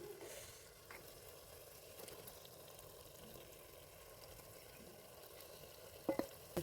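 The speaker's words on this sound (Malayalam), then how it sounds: "നമ്മൾ ഇതിലേക്ക് നമ്മൾ ഫ്രൈ ചെയ്ത് വെച്ച ചെമ്മീൻ ആഡ് ചെയ്ത് കൊടുക്കാം" Fried prawns go into a hot biryani masala and are stirred, giving a low, steady sizzle with soft scraping under it and a couple of sharp utensil knocks near the end.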